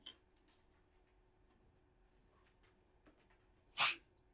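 A single sharp sneeze bursts out near the end of a quiet classroom stretch, loud and brief against faint background ticking and rustle.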